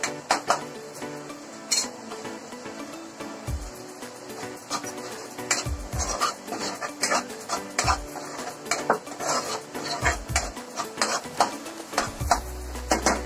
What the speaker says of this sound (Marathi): थोडंसं ढवळून घ्या. बघा तेल सुटलेलं आहे चांगलं.